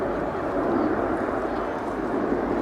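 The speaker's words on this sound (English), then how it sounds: "9 aircraft of the main formation, now turning right" Frecce Tricolori jets flying over in a nine-aircraft formation at an air show, a steady broad engine roar that holds at a constant loudness throughout.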